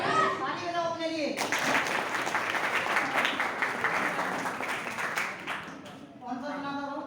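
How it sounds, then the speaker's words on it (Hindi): Sustained applause from a group at a New Year program fills several seconds, sandwiched between a speaking voice before and after. "ताली बजाओ अपने लिए।"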